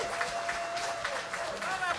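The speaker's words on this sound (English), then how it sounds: "if we could please give Best Sleep Center a big round of applause" Applause from an evening music event audience for a sponsor, a moderate crowd clapping steadily with scattered sharper claps while a voice talks over it.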